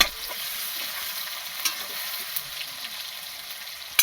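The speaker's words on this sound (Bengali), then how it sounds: "এবার পেঁয়াজ লঙ্কাটা ফুটিয়ে নিতে হবে" Onion and chili frying in oil in a pan while being stirred for a chicken dish, giving a steady hissing sizzle with occasional soft spoon scrapes and clicks, close and even throughout.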